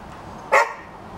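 A dog gives a single short, sharp bark indoors. It is close and loud against a quiet background.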